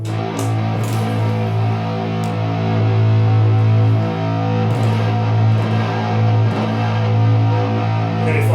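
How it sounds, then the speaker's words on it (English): Electric guitar through a Ray Gun Effects Badlands distortion pedal, a clone of a Fat Rat, giving a steady loud fuzzy sustained chord tone with faint pick attacks, played alone without talking. "It's actually a clone of a Fat Rat pedal, which is really cool, and that's my main sort of distorted tones."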